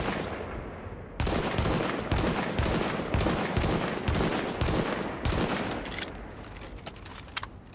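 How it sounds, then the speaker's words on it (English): Rapid gunfire from a Socom MIA high-end rifle in The Division video game: a steady string of about ten loud, evenly spaced shots, followed by a few quieter trailing clicks. "I'm gonna shoot at the middle of the R and controlling the recoil"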